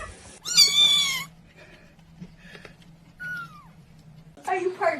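A cat meows twice, a long drawn-out cry followed later by a shorter one, close by, with a quiet background hum in between.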